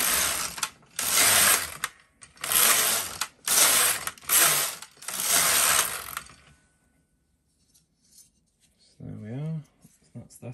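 A Silver Reed LK140 or LK150 knitting machine carriage with the FC6 Fair Isle attachment knitting rows: about six loud, rattling mechanical passes back and forth, separated by short pauses, followed by quiet and a brief voice near the end.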